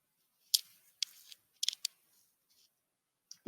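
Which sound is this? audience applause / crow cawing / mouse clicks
mouse clicks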